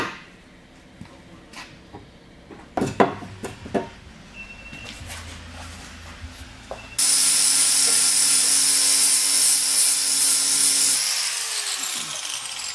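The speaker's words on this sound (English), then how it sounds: "I've now sanded back all the areas that I know are going to need doing." Metal on a Golf Mk2 wheel arch is sanded back by a power tool, first with scattered scraping bursts, then a loud steady high-pitched grinding whine that holds for several seconds.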